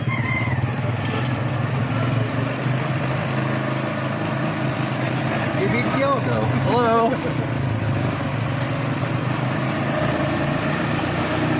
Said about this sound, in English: And motorcycles and tricycles behind us.